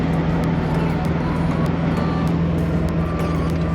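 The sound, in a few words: car being driven after wheel alignment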